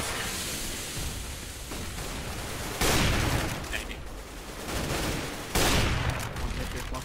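Grenade blasts in a video game, two loud booming bursts of broadband noise a few seconds apart over continuous rumbling battle noise.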